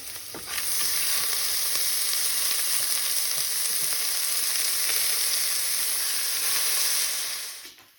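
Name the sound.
adding rice to fried vegetables in a pan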